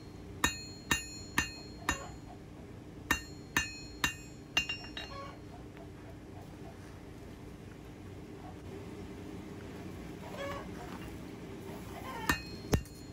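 Blacksmith's hammer forging an awl on the flat at the anvil, with about eight sharp ringing strikes in an uneven rhythm, then a quiet stretch before two more blows near the end.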